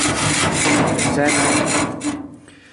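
A rusty axle on an Agri-Fab lawn trailer is being cut through. A loud, harsh, continuous rasping grind runs for about two seconds, then fades and tapers off.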